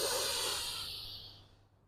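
A single deep, steady breath drawn in during a slow yoga core and stretching exercise, close and airy, starting loud and gradually fading over about two seconds with no talking.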